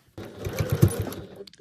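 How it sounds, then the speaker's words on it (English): A sewing machine runs steadily as it stitches a zippered frogmouth pouch, with a short burst of motor whir followed by brief stops and restarts near the end. "I just check where I start and stop stitching."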